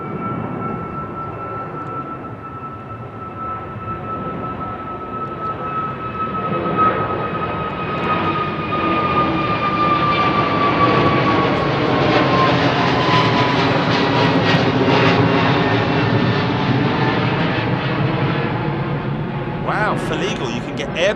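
An Airbus A320neo jet departs Heathrow runway 09R, its engine roar swelling steadily and holding loud for about twenty seconds, with a rising whine riding on top and a brief knock near the end.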